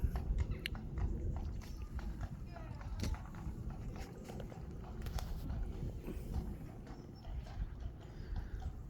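Horse hooves clip-clop outdoors at a steady walking pace, with irregular knocks scattered over a low rumbling background and faint, fairly distant steps for the whole stretch.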